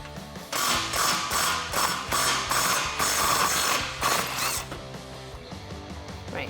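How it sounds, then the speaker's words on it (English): A ratchet with a 13mm socket working loose the front exhaust clamp on a Jeep Wrangler JL 3.6L V6: close, rapid clicking bursts in quick strokes for several seconds, then stopping. "I'm going to start at the front with this clamp up here. I'm going to be using a 13mm socket."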